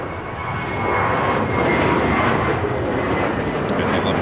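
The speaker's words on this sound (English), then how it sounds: "Right there, Lufthansa Queen and making that left-hand turn at the taxiway." Lufthansa jet airliner taxiing and turning onto a taxiway at LAX, a broad steady engine roar that swells after the first second and holds, with faint high whine and no voice.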